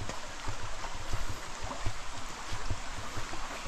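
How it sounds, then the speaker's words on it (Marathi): A forest stream runs steadily beside farmland and tall trees, its continuous close gurgling wash filling the scene with small irregular splashes and no voices. "तर इकडं ओढा वाहतोय, जो मगाचा ओढा होता तोच पुढं कंटिन्यू असा होता इकडे येऊन."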